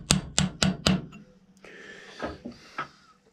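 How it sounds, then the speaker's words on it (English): A cold chisel is struck four times in quick, even succession while peening the edges of a barrel lug dovetail on a muzzleloader, sharp close metallic taps followed by softer scraping and handling sounds. "take my cold chisel again, just slightly peen the edges"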